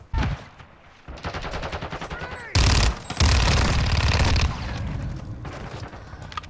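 Automatic weapon fire in a Call of Duty: Modern Warfare II multiplayer match, rapid bursts of loud close gunshots in several volleys with brief gaps, a voice talking between them.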